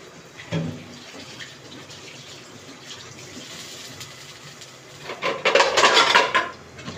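Metal dishes and pans clatter, with a clank near the start and a burst of louder rattling and scraping toward the end as a lid goes onto a cooking pot of monggo.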